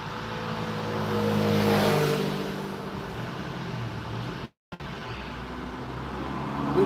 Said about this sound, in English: That's an ice cream van in a hurry.